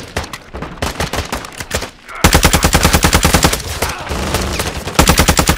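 Rapid automatic gunfire rattles in Call of Duty DMZ during a fight with a juggernaut, in loud, close, sustained bursts that grow denser after a short pause.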